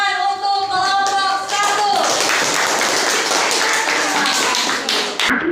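A group of people clapping for a presenting group in a classroom, a dense, fairly close burst of claps that starts after some talk and continues steadily before tapering off.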